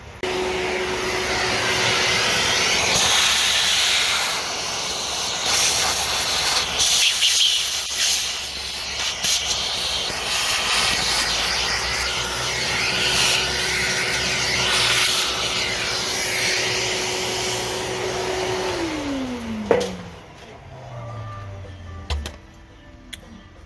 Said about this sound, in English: Get my vacuum over here and clean that up.